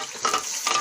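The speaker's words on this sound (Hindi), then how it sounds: "अब हमारा कुकिंग ऑयल गर्म हो गया है। इसमें डालेंगे टमाटर।" Tomatoes hit hot cooking oil in a pan, giving a bright, close sizzle with a couple of brief swells of spitting.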